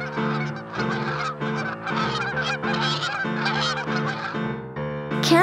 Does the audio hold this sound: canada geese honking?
yes